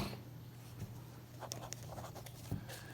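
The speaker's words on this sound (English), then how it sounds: "let me just go ahead and write the first equation down there" A marker or chalk scratches faintly across a classroom board as a math equation is written out, with short strokes and taps over a quiet room hum.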